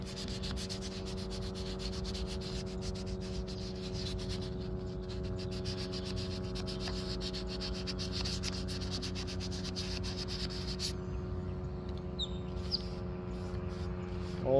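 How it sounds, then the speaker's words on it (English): Sandpaper rubs steadily over an Aerotech Arreaux model rocket body, a continuous, even scratchy hiss with a low steady hum beneath it. "We can just get this sanded."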